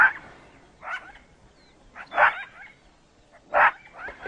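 A jackal on an open African plain calls repeatedly at a nearby leopard, giving three or four sharp, yelping barks spaced a second or so apart, moderately close and alone over quiet background.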